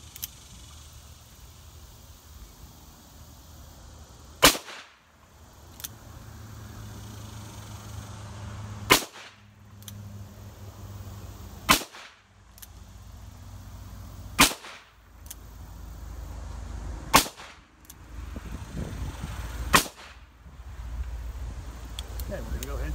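Handloaded .38 Special rounds with 158-grain bullets fired one by one over a chronograph outdoors, about eight sharp loud reports spaced several seconds apart, with low background noise between shots.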